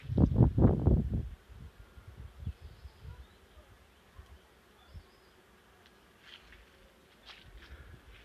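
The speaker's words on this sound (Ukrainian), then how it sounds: "Ось якщо може буде, що камера зловить звук. Гул стоїть як у вулику." Bees buzz among blooming linden trees planted in a garden, a faint steady hum behind loud rustling and handling noise at the start, with a few brief clicks later.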